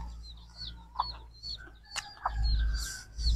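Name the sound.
chickens clucking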